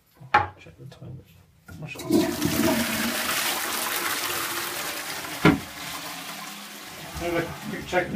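A toilet flushes with a rushing, gurgling surge of water that runs for several seconds, preceded by a few clunks of the handle and faint movement.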